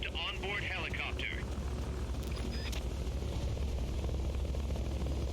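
A Hind helicopter from Metal Gear Solid: Peace Walker drones with a steady rotor whir, while a voice briefly speaks near the start under the continuous low engine noise.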